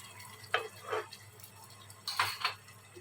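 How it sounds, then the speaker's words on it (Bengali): Chicken korma ingredients are stirred together with yogurt and milk in a bowl or pan, making a few short wet squelching swishes in bursts, close and moderately loud over a low steady hum. "দিয়ে সবগুলো উপকরণকে ভালোভাবে মিশিয়ে নেব।"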